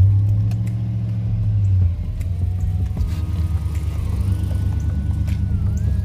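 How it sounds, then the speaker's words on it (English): Stock exhaust of a 5.3 V8 Chevrolet Tahoe PPV SUV idling with a steady low rumble, then a brief rev as the note shifts and settles back, loud and close with no talk. "Just let you guys hear the exhaust."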